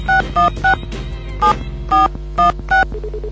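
Telephone keypad tones as a number is dialled on a phone: seven short, evenly spaced two-tone beeps, loud and close, followed by a faint line hum, no talk.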